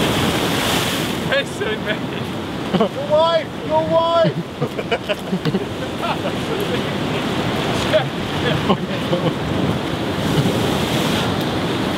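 Surf and wind roar throughout as a rogue ocean wave breaks over a bride and groom on a windy shore, loud and close, with people shouting and talking over the crash.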